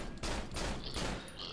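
Gunfire in the horror video game Cry of Fear comes as a dense burst of roughly four rapid, loud shots with no pauses between them.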